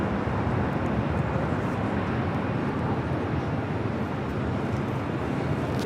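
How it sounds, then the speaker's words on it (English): A United Airlines 787-10 Dreamliner departing from the south side at LAX: a steady broad jet roar, loud and unbroken, with no clear change in level and no voices. "Next heavy departure here on the south side. United Airlines flight 2614 heading to Newark in a 787-10 Dreamliner."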